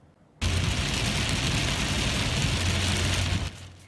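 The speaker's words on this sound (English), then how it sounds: "This video shows rain coming down hard along the 101 in Hollywood." Heavy rain pours down along the 101 freeway in Hollywood, a sudden dense hiss of downpour and road spray with a low traffic rumble underneath that cuts off abruptly near the end.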